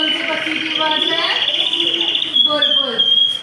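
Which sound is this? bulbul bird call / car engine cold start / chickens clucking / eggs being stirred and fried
bulbul bird call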